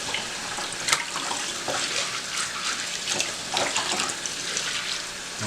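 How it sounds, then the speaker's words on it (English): Running water splashes steadily from a tap, with pinto beans rattling and swishing as they're rinsed close by, no voices. "Like rinsing them off real good."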